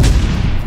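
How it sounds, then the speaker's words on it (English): A flash bang grenade goes off in the World War II shooter Call of Duty WW2, a dense, loud low boom that fills the moment with rumbling noise and no clear tail, with no voice over it. "And flash bang."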